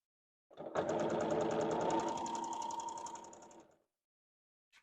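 A sewing machine stitching a qaspeq vest runs in one steady, loud burst of about three seconds, a rapid mechanical chatter that starts abruptly and fades out before a short silence.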